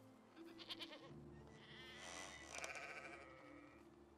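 Sheep bleat in a village pen in the video game Medieval Dynasty, several overlapping, wavering calls at moderate distance over a low ambient hum.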